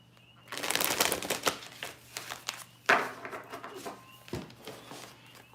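A deck of cards is shuffled repeatedly during a zodiac card reading, giving dense, close riffling and flicking crackles in uneven bursts.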